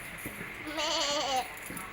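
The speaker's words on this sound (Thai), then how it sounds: "ใช่แพะนะ" A goat gives a single wavering bleat, faint and slightly distant over low background hiss, with soft rustling before and after.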